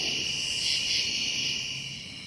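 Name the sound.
crickets chirping at night by the lake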